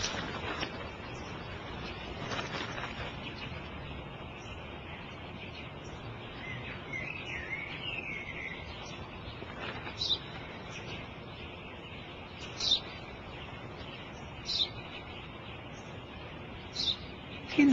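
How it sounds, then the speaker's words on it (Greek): A sparrow chirps in short, scattered calls over steady background noise, with several brief, louder chirps toward the end. "Ένα σπουργίτη είναι"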